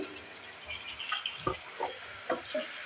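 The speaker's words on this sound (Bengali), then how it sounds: "হলুদ লবণটা দেওয়ার পর আবারও নেড়ে চেড়ে নিচ্ছি।" Potato and spinach sabzi with turmeric and salt gets stirred in a pan, a few soft scrapes and wet clacks over a faint sizzle, close and moderately quiet, unevenly spaced.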